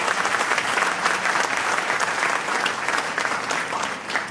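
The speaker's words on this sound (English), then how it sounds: "Y'all give her a round of applause as well" An audience at a health center's grand opening event breaks into sustained, dense applause that stays steady and fairly loud throughout before easing slightly at the end.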